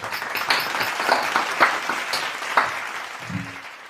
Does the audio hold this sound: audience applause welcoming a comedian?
yes